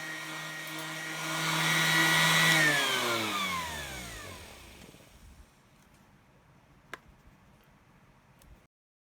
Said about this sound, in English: plug in the sander and run against the palm of your hand